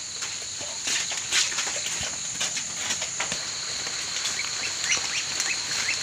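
Several ducks quack intermittently amid a constant high insect-like drone, with scattered scuffling movement nearby.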